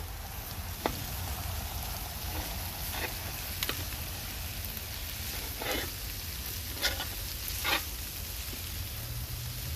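Sausage meat mixture fries in a pan greased with its own juices, giving a soft, steady sizzle with occasional light pops and scrapes of stirring, fairly quiet and close.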